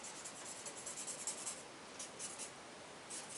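A nearly dried-out marker drags across paper, giving a faint, continuous close-up hiss with a few brighter swishes of strokes and no voices.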